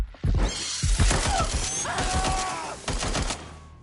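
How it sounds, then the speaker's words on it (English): Burst of gunfire in the video game Watch Dogs: Legion, rapid sharp shots crackling close and loud over a busy game soundscape, with brief voices mixed in. "I'm taking fire here."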